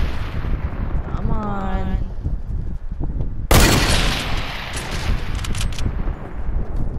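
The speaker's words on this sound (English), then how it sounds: "Are you shooting trees too?" Gunfire in the Fortnite video game, aimed at trees during a duos match: one loud, sudden blast midway that rings out and fades, with steady background rumble and voices talking over it.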